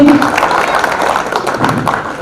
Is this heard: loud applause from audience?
yes